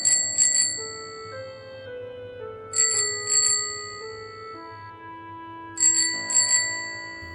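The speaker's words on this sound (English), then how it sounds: "Three short rings of a bicycle bell echoing through the fog behind us." A bicycle bell rings in three short double-chime bursts, spaced a few seconds apart, bright and clear over a low background hum, with no talking.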